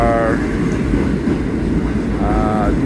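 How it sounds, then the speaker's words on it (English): A New York City subway Q train of 50-year-old R46 cars rolls into the end-of-the-line station with a loud, steady rumble, its whine rising briefly at the start and again near the end, with someone talking over it. "Here comes a Q train in"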